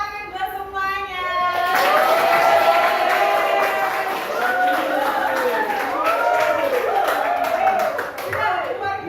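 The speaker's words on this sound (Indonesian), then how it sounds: "tepuk tangan buat semuanya" A group applauds together, a steady rippling of many hands clapping that continues for several seconds, loud and fairly close.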